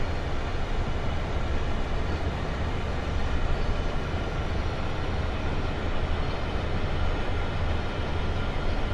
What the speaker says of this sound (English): There's the end of the other train